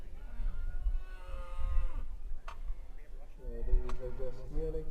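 Yearling heifers in a cattle show ring, two long drawn-out moos a couple of seconds apart over a busy indoor background with voices talking.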